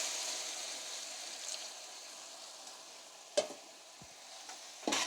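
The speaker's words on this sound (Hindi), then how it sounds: "अभी इसको मिक्स करेंगे।" Ground spices are stirred into simmering beef yakhni for pulao, a continuous close sizzle and hiss with a few sharp spoon scrapes and clinks near the end.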